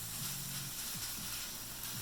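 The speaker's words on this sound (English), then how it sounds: "I'm gonna take that bacon, I'm gonna put it in the pan. Listen to that sizzle." Bacon sizzles in a pan while tuna tacos are being made, a steady broadband hiss with faint clicking underneath, fairly quiet and continuous with no talking.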